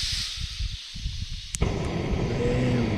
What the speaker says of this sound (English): Let's get this stove fired up.